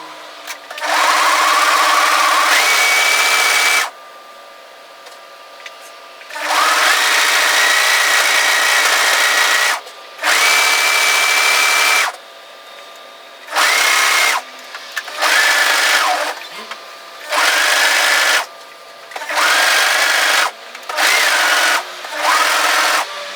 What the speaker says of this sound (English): I'm going to cover stitch this down from the hem to the neckline on both sides